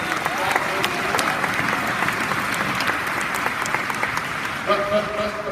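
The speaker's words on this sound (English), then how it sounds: "give them a round of applause" Crowd applause for winners walking the stage at a Michigan sales fast start school event, a steady, full roar of many hands sustained throughout, with faint voices appearing near the end.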